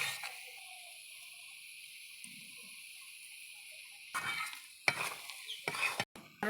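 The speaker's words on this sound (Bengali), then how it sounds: "এইভাবে দিব আর নাড়বো।" Sweet-sour-spicy jujube (kul) pickle with sugar stirred in a pan: a few seconds of quiet hiss, then a run of close scraping strokes and clatter, loud and uneven, ending abruptly.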